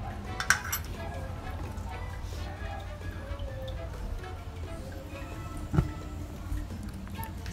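Spoon stirring cocoa powder into a drink, steady soft clinking and scraping against a cup throughout, with a couple of sharper taps.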